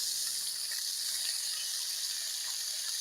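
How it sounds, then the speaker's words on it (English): Bacon frying in a hot cast iron pan gives a steady close hiss and crackle with no pauses. "Got the bacon going."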